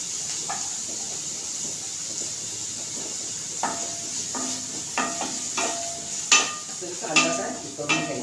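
Onion dropped into hot ghee with crackling cumin seeds sizzles steadily for a sweet corn snack, with a constant hiss and scattered spatula scrapes and taps on the pan growing busier toward the end.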